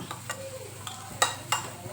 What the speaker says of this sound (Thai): แล้วก็ตีไข่นะคะ ตีไข่ สามฟองเนี่ยก็หลายเลยเด้เนาะ